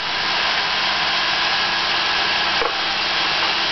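Syma X8C quadcopter drone motors throttled up, a steady high whirring propeller drone held at constant pitch throughout, loud and close with a brief knock near the end.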